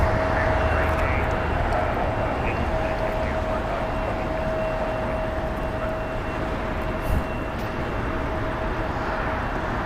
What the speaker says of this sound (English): We had a China Airlines cargo flight 5156 landed in from Taipei.